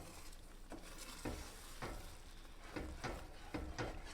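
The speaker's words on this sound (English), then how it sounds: "and we're just gonna stir it." Mexican-style almond sauce stirred in a pan over medium heat, soft rhythmic scraping strokes about every half second over a faint simmering hiss, quiet and close with no voices.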